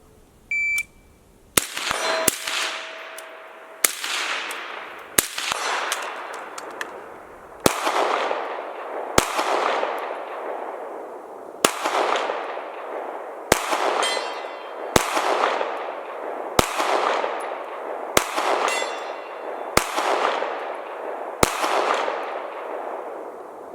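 Sharp pistol and rifle gunshots crack out at an outdoor shooting range, about a dozen loud single reports spaced one to two seconds apart, each followed by a rolling echo tail.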